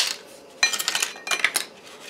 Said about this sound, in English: Just kind of break them into pieces.